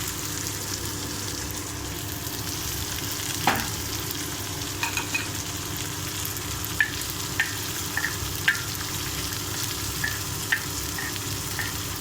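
Ingredients for masala dosa batter fry in a pan with a continuous low sizzle, punctuated by light ticking spatula taps and scrapes, quiet and close, no talking.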